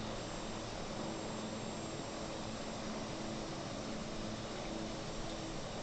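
Steady aircraft engine drone during a climb over a training area, a constant broadband roar that holds at an even level throughout with no voices.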